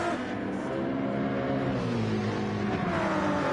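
Race car engine in Gran Turismo 7 at around 91 mph through a turn, a continuous droning roar with wavering pitch as the car holds speed, close and steady with no talk over it.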